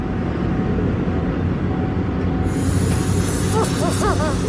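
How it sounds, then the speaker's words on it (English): Air leaks from the Cowmaro car engine as a steady, loud hiss under a broad rushing noise, with a few short squeaky chirps near the end. "Alright, you want to hear it leak some air?"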